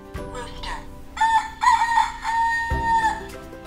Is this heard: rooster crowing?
yes